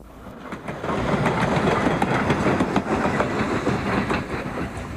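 The Nebraska Zephyr, a late-1930s fluted stainless steel train, runs along the rails with a steady rumbling roar and faint rhythmic clicking of wheels, building quickly after the start and staying loud and continuous.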